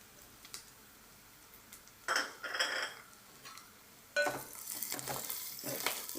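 Dried prawns, already cleaned and dry-roasted, tipped into a pan for a gongura prawn curry and stirred, giving soft sizzling with scraping and clinking of a utensil in two short busts, fairly quiet and without talk.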